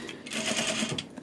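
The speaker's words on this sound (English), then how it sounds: "now I'm just going to go to the end and" A sewing machine backstitches a zipper into a jacket in a short, rapid burst of close stitching.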